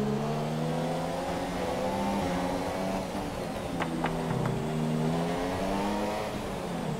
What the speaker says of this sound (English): There's a little bit of an over rev. Hopefully it doesn't hurt it too much.